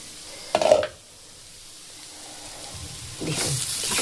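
Vegetables fry in a covered pan, with a sharp burst of sizzling and hiss near the start, a quiet lull, then a louder, steady sizzle that rises and holds to the end.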